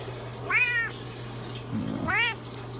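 A talkative cat gives two clear meows for attention about a second and a half apart, close and moderately loud, over a steady hum from fish tank equipment.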